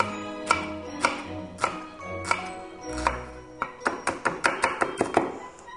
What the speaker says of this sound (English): So you just kind of roughly chop it up.